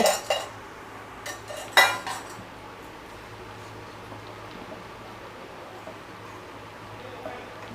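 A spoon scrapes and clinks against a metal pot a few times near the start while stirring lentils and water over a low flame, then only a low steady kitchen hum remains.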